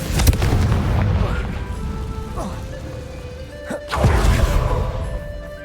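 A Confringo fire-spell blast in Hogwarts Legacy, a booming burst at the start followed by lighter crackling impacts and a second heavy hit near the end, with game sound underneath.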